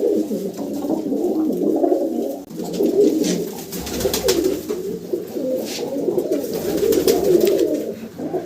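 Pigeons cooing steadily in a loft, a dense, continuous layer of soft throaty coos from several birds close by, with no talk.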